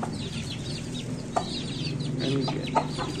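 Young Aseel chicken chicks cluck and cheep continuously in a poultry enclosure, with a low steady background hum and a few sharper peeps standing out.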